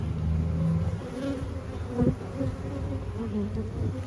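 Honey bees buzz in a dense, continuous swarm hum over an opened hive with frames of larvae and pollen, steady and close throughout, with a slight swell near the middle.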